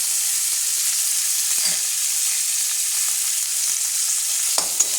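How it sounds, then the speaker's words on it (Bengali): Grated coconut and chickpeas frying in a pan for a Bengali pumpkin kalia, a steady close sizzle with a few soft stirring scrapes and no talk. "নারকেল আর ছোলাটা ভাজা ভাজা হয়ে গেছে।"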